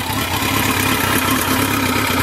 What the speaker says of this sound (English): you can see that it's idling off choke